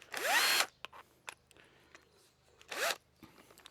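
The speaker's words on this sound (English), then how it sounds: "It's a diamond hole saw, which is not nearly as fancy as it sounds." A diamond hole saw drills into material during a Georgian rectory renovation: two short, loud whirring bursts with a rising pitch sweep, separated by quieter clicks and knocks nearby.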